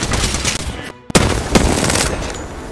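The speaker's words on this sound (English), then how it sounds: "Taking fire." Gunfire in the video game Apex Legends, with a dense, loud burst of rapid shots that breaks off for a moment and then resumes in heavy volleys, close and alone.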